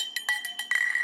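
Metal pots of a Stanley cook set clink together in several quick, bright taps followed by a short ringing tone, close and fairly quiet.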